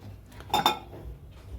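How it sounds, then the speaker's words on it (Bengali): A wok (kadai) set down on a gas stove, giving a couple of quick metallic clinks close up over a quiet background. "গ্যাসটাকে জ্বালিয়ে নিলাম নিয়ে কড়াটাকে বসিয়ে দিন"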